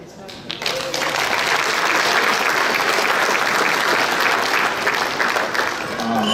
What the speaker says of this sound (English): Can please stand up and give them a round of applause.